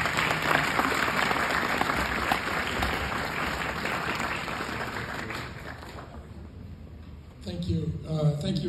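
Audience applause welcoming a college rector at a Christmas gala, steady dense clapping for several seconds that thins out before a speaker's voice takes over.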